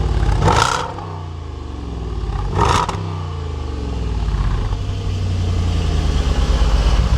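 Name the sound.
SUV engine exhaust revving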